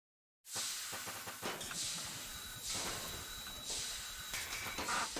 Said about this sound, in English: My Stanley steam lift. It makes traversing these cumbersome stairs a breeze.